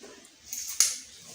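Scissors snip through skirt fabric being cut out for a ruched skirt, with two close crisp cuts, the second one sharper, in a quiet room.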